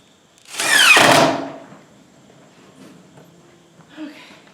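A power drill drives screws into a rabbit waste collection system, one loud burst of whirring under a second of run time, then near quiet with a faint, brief second spin at the end.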